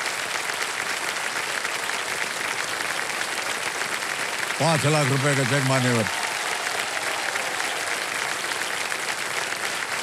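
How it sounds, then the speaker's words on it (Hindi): A TV quiz show studio audience breaks into brief clapping that swells for about a second and a half, heard under a host's ongoing speech amid steady background noise. "ताली बज जाए इनके लिए।"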